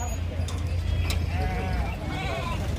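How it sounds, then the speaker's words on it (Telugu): Sheep bleat repeatedly amid a crowd of voices and general bustle at the Gudur sheep market, the animal calls rising over the chatter at moderate distance. "అన్ని గొర్రెలే ఉన్నాయి, పిల్లలు ఏం కనిపించడం లేదు"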